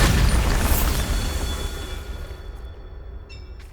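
A Bombarda spell detonates in Hogwarts Legacy, one loud close blast whose rumbling debris and reverberation fade away over a few seconds, leaving a faint high ring at the end.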